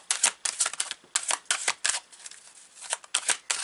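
Tarot cards drawn and shuffled from a deck, producing a quick series of crisp card snaps and slides, close and fairly loud, in irregular bursts with short pauses.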